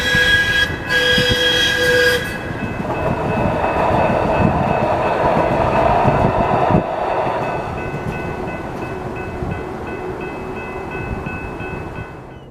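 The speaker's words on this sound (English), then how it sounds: "listen here for the train bells and the whistle" A train rumbles past a railroad crossing on an old Route 66 alignment in St. Louis, with a loud horn blast at the start and steady rolling clatter of wagons fading slowly over about twelve seconds.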